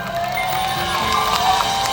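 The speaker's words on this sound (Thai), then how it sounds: "ปรบมือกับคุณแม่สิริควรชมครับ" A crowd at a live music performance cheers and applauds for Mother Siri, a steady, dense wash of clapping and cheering voices with no pauses.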